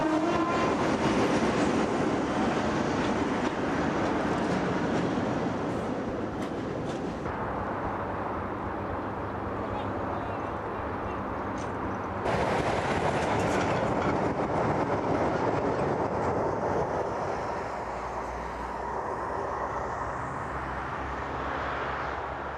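A British diesel locomotive with an English Electric power unit roars past at close range, its heavy engine drone shifting as wagons rumble and clatter by, loud and continuous with no talk.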